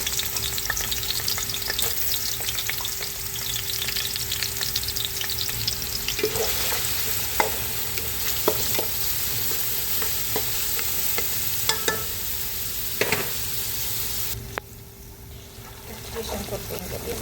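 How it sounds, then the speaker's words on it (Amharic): Onions frying in oil for an Ethiopian cabbage and potato dish, a steady close hiss and sizzle with occasional stirring clatters, briefly dropping quieter near the end. "ሽንኩርት እንግዲህ በእንደዚህ መልኩ ጥብስ ብለዋል"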